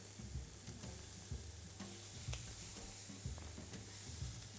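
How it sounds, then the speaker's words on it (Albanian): Pancetta frying in a pan for an omelette, a steady close sizzle and hiss with occasional scraping stirs, and no talking. "këtu kemi skuqje pancetën"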